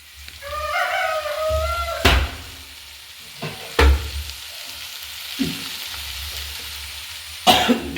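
Dried shrimp sautéed in a pan for a shrimp roast, a low steady sizzle broken by several sharp scraping stirs of a spatula, with a faint cough-like sound near the start.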